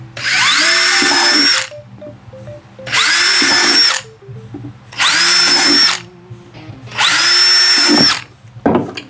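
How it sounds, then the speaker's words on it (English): A power drill whirs in four separate bursts of about a second and a half each, drilling holes in a 2024 Harley-Davidson CVO Street Glide motorcycle, evenly spaced with short quiet pauses, close and loud. "now I'll come back and drill those 4 holes"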